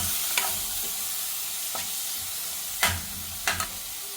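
Tomatoes softening in a pan for capsicum gravy, a low steady sizzle with a few sharp scrapes of a spoon stirring, close and fairly quiet, no voices.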